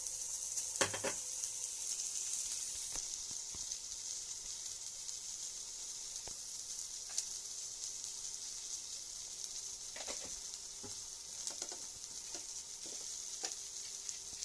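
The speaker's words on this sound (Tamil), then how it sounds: "சாம்பார் தூளியும் மிளகாய் தூளியும் நல்லா போட்டு வதக்கணும்" Drumsticks sauté in a pan with sambar powder and chili powder, a steady bright sizzle running throughout, broken by a few sharp clinks and scrapes of stirring.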